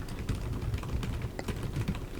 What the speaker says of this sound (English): The keyboard is super nice and tactile and clicky.